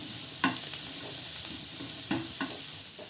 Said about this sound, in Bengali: তো ভালোভাবে ভেজে নেব।